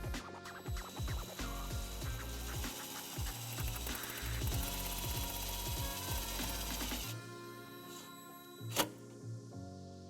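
A power driver whirs and ratchets a self-tapping screw into the sheet metal of a 2019 Jeep Wrangler JL, with repeated low thumps and grinding for about seven seconds before the tool stops and a faint clack follows.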